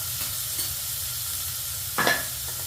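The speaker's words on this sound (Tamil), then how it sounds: "பீட்ரூட்டை போட்டு நல்லா வதக்கி விட்டுறோம்" Chopped beetroot sautéing in a pan: a steady, even sizzle close by, broken once by a brief scrape of the spatula near the end, with no voices.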